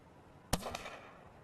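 Blank gunshots are fired to drive off a weak moose, heard as a single sharp crack followed quickly by a second, fainter report. It is loud and close against quiet outdoor ambience.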